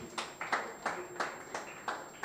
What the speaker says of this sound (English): A round of applause for Professor Azeez again